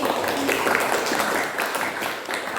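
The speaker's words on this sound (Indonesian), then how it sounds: "Tepuk tangan dulu untuk Meliana Dewi" Students in a religious studies classroom clap for a classmate, a short burst of dense, fairly loud applause that holds steady for a couple of seconds with a faint voice mixed in.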